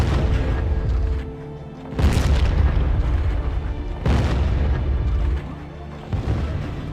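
Starship Corporation ship cannons fire in the PC game in heavy booming blasts, roughly three big explosions with rumbling tails, loud and close, under a faint narrating voice.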